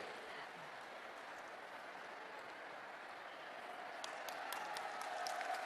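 A large audience claps for India's Prime Minister at a public event, a steady wash of distant, fairly faint applause that grows slightly denser and closer toward the end.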